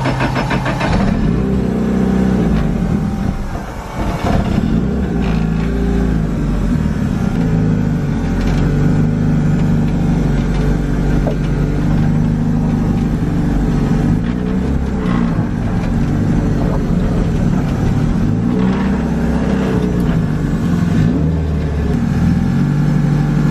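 A Nissan 180SX engine runs loud and close as the car is turned around, a steady idle with slight revs rising and falling throughout.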